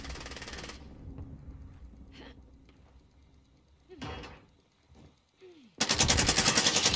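Call of Duty: Warzone gunfire comes in two loud bursts of rapid automatic shots, one at the start and one at the end, with quieter clunks, sliding and door-like sounds between them.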